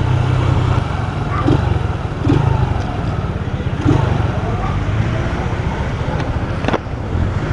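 A Yamaha YBR motorcycle idles and runs close by at a motovlogger meetup, a constant low engine drone with a few clatters and traffic noise around it, no talk.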